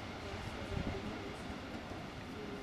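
A train hauled by DB class 111 electric locomotives rolls past in Freilassing, Bavaria, a steady close broadband rumble of wheels and wagons with no clear voices.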